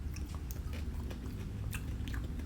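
Close-up crunching bites and chewing of crisp Mexican-style fried fish, quick crackles over a low background hum, no speech.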